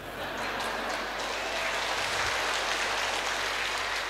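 An audience at a Catholic family-themed talk claps steadily, a dense, even wash of applause lasting several seconds at moderate loudness, with no one speaking over it.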